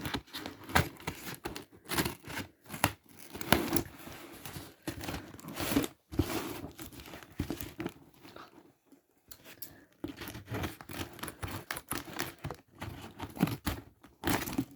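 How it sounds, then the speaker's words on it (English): Blunt scissors hack and tear open a cardboard parcel box of manga, giving a close, irregular series of crunching, ripping and crinkling cuts with short pauses. "This is why I tend to open the boxes off camera, because these scissors are not it."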